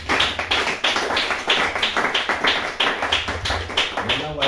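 Congregation at a church testimony service clapping in a steady, rhythmic beat, a loud and continuous run of sharp claps filling the room for several seconds.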